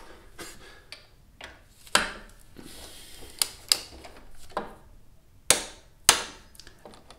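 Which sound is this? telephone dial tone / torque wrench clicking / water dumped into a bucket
torque wrench clicking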